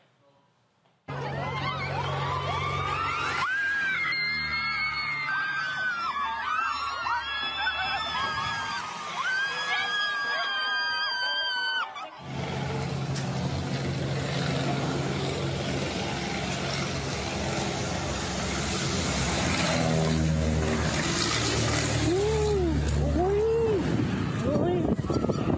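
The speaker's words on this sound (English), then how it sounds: "all them people out there yelling and hollering and screaming" Crowd at an outdoor gender reveal in Mexico yelling, hollering and screaming after a plane crash, loud and continuous, with high shrieks, a siren-like wail and fireworks crackling through the dense commotion.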